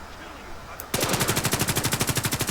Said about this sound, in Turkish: Aslında şurada bir çatışma var ya. Bir çatışma var sürekli bir çatışma.